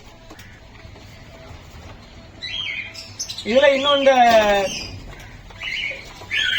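Pigeons on a bird farm give bursts of squawking, chirping calls, close and fairly loud in the second half, with a person talking in between.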